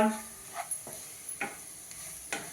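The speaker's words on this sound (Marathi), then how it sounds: "आलं लसूण पेस्ट हिरव्या मिरचीचा ठेचा सगळं छान परतून घेऊया" Ginger garlic paste and crushed green chili sautéing in a pan for an aloo curry, a faint sizzle under a few soft, evenly spaced stirring scrapes.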